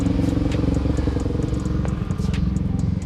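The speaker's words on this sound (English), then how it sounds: "supermoto just rode past, and must be his girlfriend on the crotch rocket" A supermoto motorcycle passing nearby, its engine a loud, rapid pulsing drone with light mechanical clatter throughout.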